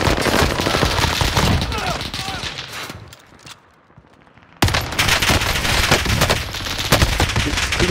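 MP5 submachine gun fire in Call of Duty Warzone, loud sustained automatic bursts with a short pause midway before firing resumes, while players talk over it.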